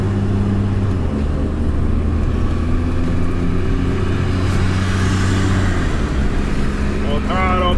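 A converted car hauler RV bus labors up a hill at full throttle, its engine droning loud and steady with a deep continuous roar, while someone talks over it.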